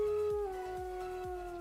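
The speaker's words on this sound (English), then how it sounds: "So yeah, we just added the howl." A wolf howl sound effect from a Roblox game rings out as one long, steady sustained tone, fairly close and clear, with faint background game sounds beneath it and no talking.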